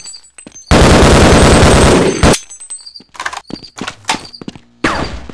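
Gunfire in Half-Life: Blue Shift, one long loud continuous burst followed by a scatter of shorter sharp shots and impacts, close and punchy.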